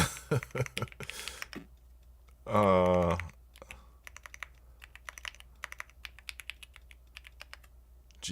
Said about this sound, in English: I was typing my word.